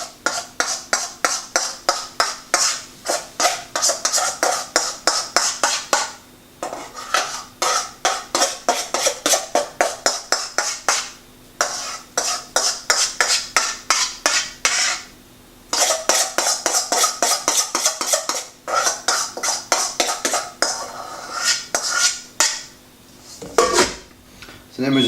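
A metal spoon scrapes and spreads lemon cheesecake mixture in a dish in dense, rhythmic bursts of clinking strokes that run through most of the stretch, broken by a few short pauses.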